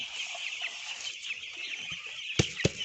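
Chickens and chicks cluck in a poultry house during chick vaccination with vaccine water, with two short sharp wing-flap or knock sounds near the end over a steady high hiss.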